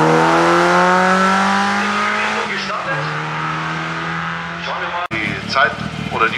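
A GSI race car at a German hill climb in Bad Liebenstein drones loudly with a steady engine tone that shifts pitch as it passes, then a sharp transient and rougher revving near the end, with a commentator talking throughout.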